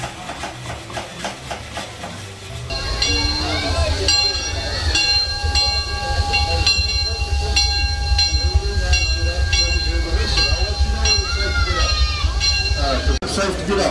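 A ride train sits at a Six Flags Over Texas railroad station with a steady engine rumble and metallic squeals and clanks, while people talk over it throughout.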